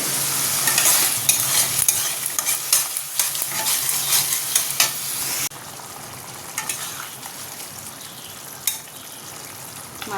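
Okra fries dry in a pan with no water added while a spatula stirs and scrapes it. A loud, close sizzle with clatter and scraping drops to a quieter, steadier fry partway through.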